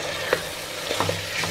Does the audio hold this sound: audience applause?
no